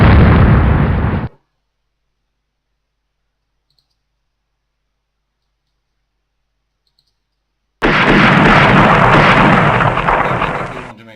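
Naval gunfire and explosions from the Rule the Waves warship battle game: a loud burst of booming fire opens, then a long silence, then another sustained roaring barrage.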